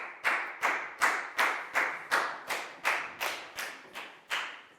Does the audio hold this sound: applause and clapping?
yes